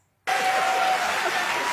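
A television studio audience breaks into loud, sustained applause and cheering after a short silence, a dense roar of clapping that holds steady to the end.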